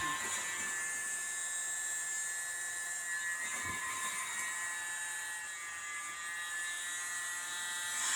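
Hair blow dryer running during an acrylic paint pour, a steady high-pitched whirring hum with a buzzy edge that continues unbroken throughout, moderately quiet and alone without talk.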